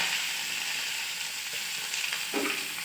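Curry leaves, onion and green chili sizzle in hot oil after mustard seeds have popped: a dense, even hiss up close, with one brief stir toward the end.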